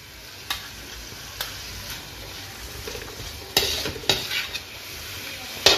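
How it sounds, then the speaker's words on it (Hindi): Vegetables and capsicum fry on a tawa for tawa pulao, a soft steady sizzle broken by several sharp spatula scrapes and clinks against the metal, close up with no voices. "अब इसे थोड़ी देर के लिए फ्राई होने देंगे"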